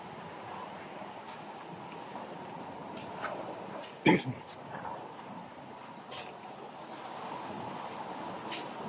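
Ocean waves wash continuously at a storm-damaged beach resort in Baliguian, Zamboanga del Norte, a steady broadband surf roar with wind buffeting the microphone and a short loud bump midway.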